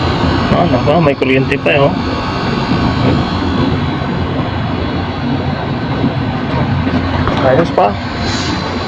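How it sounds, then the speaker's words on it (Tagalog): A newly repaired compressor runs with a loud, steady droning hum that continues throughout, while people talk over it. "Ganda, tahimik yung compressor ah."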